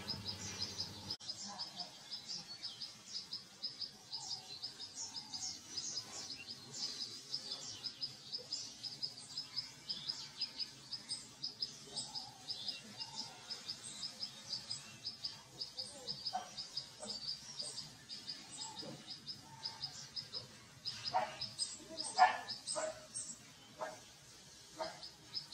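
Several birds sing and chirp together outdoors, bright repeated tweets and trills scattered densely across the whole stretch, busier toward the end, over a faint steady background.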